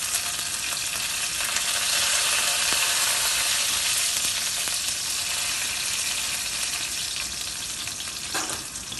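Crushed garlic and plenty of curry leaves sizzle loudly in hot oil with asafoetida while cooking tomato saar, a steady, close crackling hiss with faint stirring scrapes throughout.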